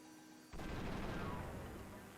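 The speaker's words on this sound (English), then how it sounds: "Fireworks." Fireworks burst in the Disgaea 5 video game, one sudden loud boom after a quiet lead-in, followed by a dense crackling roar that slowly fades.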